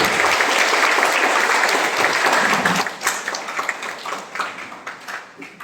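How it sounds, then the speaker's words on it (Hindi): An audience at a lecture claps loudly in dense, sustained applause that thins into scattered claps after a few seconds. "जोरदार ताली होनी चाहिए आपके लिए।"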